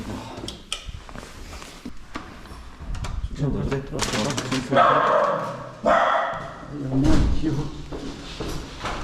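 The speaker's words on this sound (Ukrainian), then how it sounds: "Скрізь одні собаки." Dogs bark in several loud bursts nearby, mixed with people talking and some handling noise.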